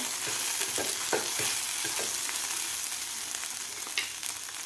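Okra fry with crushed peanut powder being stirred in a pan, a soft continuous sizzle broken by several light scraping strokes, fairly quiet and without talk.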